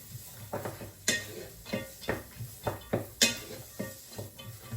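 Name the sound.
stirring softened onions sofrito in a pan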